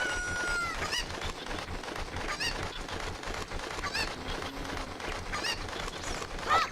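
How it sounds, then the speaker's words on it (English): Chickens clucking and squawking in The Legend of Zelda: Ocarina of Time, scattered sharp bird calls repeating over busy game background sounds, with no talking. "I'm busy wrangling chickens."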